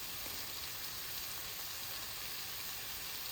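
Garlic and chili paste frying in a pan for moong bean pulao, giving a steady, faint hiss of sizzling oil with no break and no voices.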